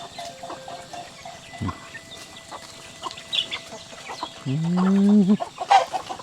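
Chickens cluck and squawk nearby, with a rooster-like call rising loudly midway, over a faint background murmur of birds.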